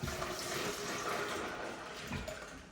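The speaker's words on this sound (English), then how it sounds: "I'm going to dump that into my tea pitcher here" Freshly brewed spearmint tea gushes from a container into a tea pitcher, a close, steady watery pour that tapers off slightly toward the end.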